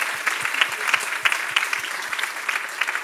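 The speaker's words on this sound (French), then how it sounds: "Oui, on peut l'applaudir, bien sûr." Steady applause from an audience in a university lecture hall, moderately loud, with crisp individual claps overlapping in an even wash.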